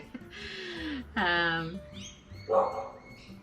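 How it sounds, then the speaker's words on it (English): A neighbour's dogs bark in a few short, separate yelps and whines, fairly close, with quiet gaps and a faint higher squeak between them. "Speaking of barking, it's the neighbour's dogs."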